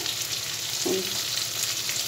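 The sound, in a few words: chicken pieces frying for chilli chicken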